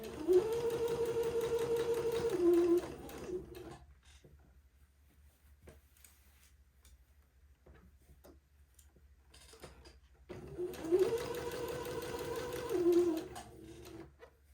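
A sewing machine runs a gathered seam on a dress in two steady bursts of rapid mechanical stitching, each about three to four seconds long. A quiet pause with faint handling noises separates them.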